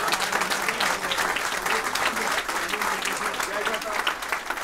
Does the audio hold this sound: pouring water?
no